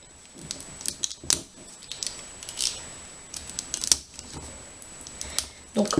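A pack of Disney scratch cards is opened up close with crisp tearing and crinkling of the wrapper. Sharp clicks and rustles come at irregular intervals, fairly quiet, with faint background room noise.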